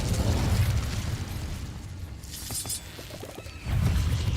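An Incendio fire spell is cast in Hogwarts Legacy, giving a loud roaring, whooshing burst of flame that eases off midway and then swells again, with a few crackles in between.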